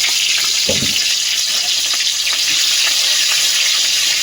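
Slit green chillies and black cumin dropped into hot oil in a wok, hissing in a loud, continuous bright sizzle with a brief lower clatter near the start.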